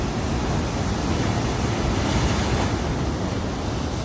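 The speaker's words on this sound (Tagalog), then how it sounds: "Ano naman guys yung alon na yan, oh." Loud, continuous roar of heavy surf crashing and churning close by, with wind buffeting the microphone throughout and no voices.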